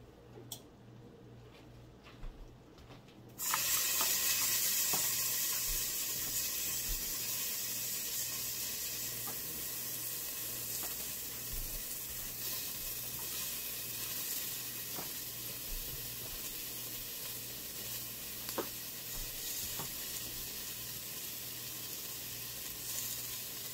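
Vegetables drop into a seasoned pan and break into a loud, steady sizzle that carries on with faint ticks and stirring clicks, after a quieter opening.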